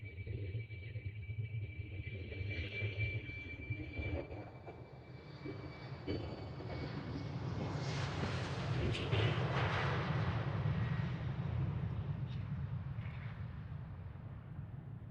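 Airliners passing at Amsterdam Schiphol Airport, a broad jet engine roar that swells toward the middle and slowly fades, loud and continuous with no talking.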